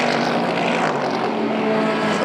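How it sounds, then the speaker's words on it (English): GT race cars at Estoril, a Mercedes rumbling and a Lamborghini and Ferrari with crisp engine notes, roar past in a loud, dense engine wash sustained throughout, with no talk. "you just hear the rumble of the Mercedes and then the clean, crisp engine notes of the Lamborghini and the Ferrari"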